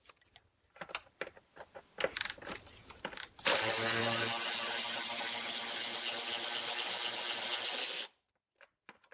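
A ratchet spins out the 13 mm bolt holding down the battery in a Chrysler Town & Country minivan, first with a few short clicks and clanks, then a steady rapid ratcheting buzz for about four seconds, close and fairly loud.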